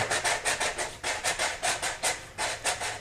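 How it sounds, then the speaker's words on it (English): A medium grit sanding block rubbed back and forth inside a rocket airframe tube, about a dozen rhythmic rasping strokes in quick even succession, close and alone. "I use about a medium grit sanding block and just clean the inside of that tube."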